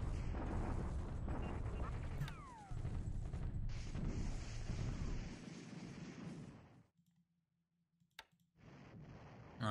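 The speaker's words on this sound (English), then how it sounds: "the Allies are bombarding at Taiyun" Artillery bombardment in the War in the Pacific strategy game, heard as dense rumbling blasts and clicking for about seven seconds, then near silence broken by a sharp single burst and a final stretch of noisy rumble.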